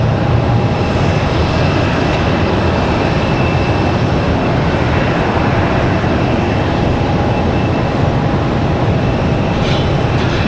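An Avelo airliner lands at Raleigh-Durham International Airport. A broad, steady roar fills the whole clip, loud and even, with no talk over it.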